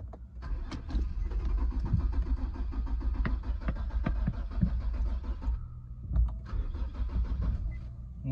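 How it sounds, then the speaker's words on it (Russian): A 3.5-litre Infiniti EX35 with 168,000 miles cranks repeatedly without catching, a steady loud starter whir and engine churn lasting several seconds, pausing briefly before cranking again. "Нет, не получается завестись."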